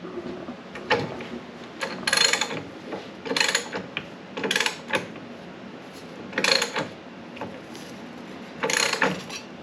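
Metal rollers on an English wheel-style shaping setup work a sheet metal panel being raised into a radius, giving repeated rolling, clanking and ratcheting bursts about every two seconds, close and moderately loud, with no talk.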